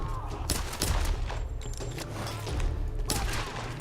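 Rapid bursts of gunfire crackle over a dense, rumbling soundscape in the video game Tomb Raider, with shots overlapping in a continuous barrage.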